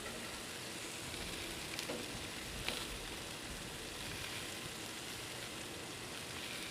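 Food caramelizing on a Camp Chef 36 Gridiron griddle, likely artisan brats and onions, gives a steady, soft, even sizzle throughout with no talk.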